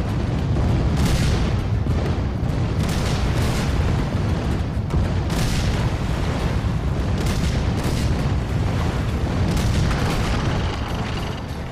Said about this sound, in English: The heavy artillery.